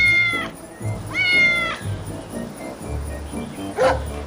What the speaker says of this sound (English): And there's a cat. It's meowing.